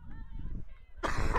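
A football commentator coughs hoarsely into the microphone during live commentary of a women's match, a short harsh burst near the end after low background crowd and voice noise.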